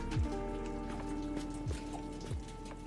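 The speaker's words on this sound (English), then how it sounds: "it's like raining on the roof of the toilet. And it really echoes." Rain patters on the roof of a toilet inside a video game, a faint, even drizzle with an echoing hollow quality, broken by a few low thumps and no talk.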